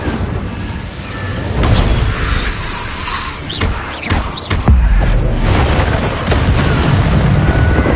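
The Incendio fire spell in Hogwarts Legacy goes off in loud whooshing bursts and booming impacts, with several sharp blasts in the middle of a dense, roaring game soundscape.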